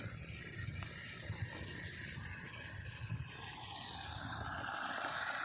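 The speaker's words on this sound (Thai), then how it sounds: "น้ำไหลแรงมากเลย" Water flows strongly from a garden hose at a rural planting plot, a steady, loud rushing and gushing stream heard close up without pause and with no talking.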